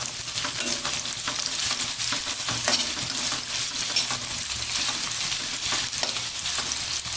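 Long-sliced onion sautéing in a pan for veg Hakka noodles, a constant frying sizzle with repeated scraping stirs throughout, nearby and alone without speech.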